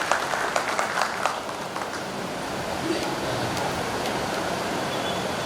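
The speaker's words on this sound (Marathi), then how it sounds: "केशवराव पवार महाराज आळंदीहून आले बिचारे आता एसटीने आले उन्हात त्यांच्यासाठी एक टाळी वाजवा" An audience at a religious kirtan gathering claps briefly and unevenly, then settles into a steady murmuring crowd hum. The applause is moderately loud and fades after about a second.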